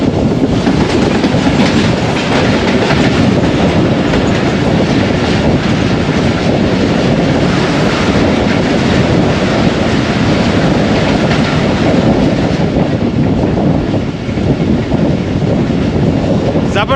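The Pak Business Express rushes by at Renala Khurd, Punjab, in cold foggy weather, a loud, continuous roar of rolling wheels with rhythmic clickety-clack over the rails and wind buffeting the microphone throughout.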